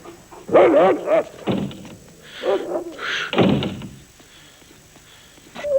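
Dog barking and whining up close in a few short bursts, with pauses and a soft thump between them.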